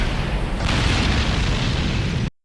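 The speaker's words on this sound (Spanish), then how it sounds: "Del otro lado de la ciudad Dean casi se atora por la explosión" A single kick to the ground sets off an explosion, a loud, continuous roaring blast that swells slightly after the first half-second and then cuts off abruptly.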